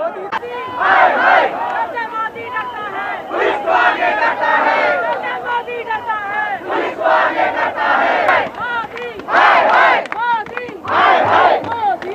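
A large crowd of Aam Aadmi Party workers at Mandi House, Delhi, shouting slogans in rhythmic waves, loud and close, with chanting voices rising and falling throughout.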